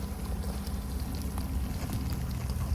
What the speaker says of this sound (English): I hear it sizzling, I hear it bubbling.